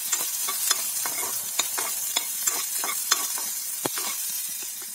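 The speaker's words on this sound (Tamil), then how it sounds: "இது கூடவே ஒரே ஒரு தக்காளி அதையும் கட் பண்ணி போட்டு வதக்கிக்கலாம்" Chopped tomato sautés in a pan for vatha kuzhambu, with a steady sizzle broken by repeated scraping stirs of a spoon, close and clear, with no voices.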